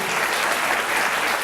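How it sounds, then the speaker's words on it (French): An audience at a theatre show claps in dense, continuous applause that holds at an even, fairly loud level for the whole short stretch, with no clear speech. "Applaudissements, s'il vous plaît, pour les encourager."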